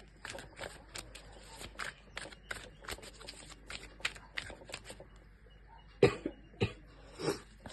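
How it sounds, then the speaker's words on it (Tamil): A person coughs repeatedly, with harsh, irregular bursts that become louder and closer near the end, over a quieter background of light rustling and handling noise. "சடனாக வந்து இருமல் நிறைய வந்துருச்சு."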